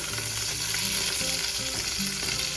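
Cubed pork or meat for pozole searing in a hot pan, a steady loud sizzle and crackle running throughout with low background hum, no talking.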